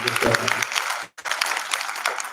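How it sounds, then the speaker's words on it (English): Applause from an audience of students and professors at a program event, a broadband clatter running under voices for about a second, then pausing briefly and resuming at a steady, moderate level. "let's have a big round of applause for all of you"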